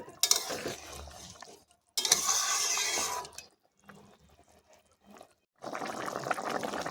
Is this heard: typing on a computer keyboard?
no